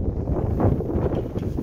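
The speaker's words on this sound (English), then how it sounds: "It's a little windy and cold." Cold wind blowing outdoors by a bay in winter at Baie-Saint-Paul, a steady broadband rush with gusting buffets on the microphone and no voices.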